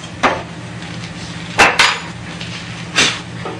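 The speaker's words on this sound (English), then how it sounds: "I'm going to take the mortising bit out of here." A mortising bit is pulled from a Shopsmith, giving three sharp metallic knocks and clinks spaced about a second apart, close and fairly loud against a low steady hum.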